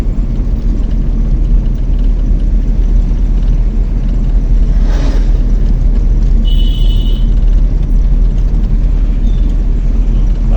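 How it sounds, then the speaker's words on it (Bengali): A car reversing slowly during a driving lesson produces a loud, constant low engine rumble throughout, with a brief thin whine partway through and no talking. "তুমি তোমার এই গাড়ির পিছিয়ে পিছিয়ে চালাও"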